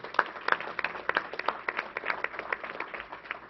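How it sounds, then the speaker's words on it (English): A small room applauds at a government news briefing, with distinct individual claps sounding close and fairly sparse at a moderate, uneven rhythm. "Let's give him a round of applause"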